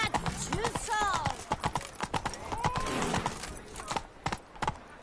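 Roach the horse gallops in The Witcher 3, rapid hoof clip-clops with a brief whinny, close and loud, while someone speaks over the hoofbeats.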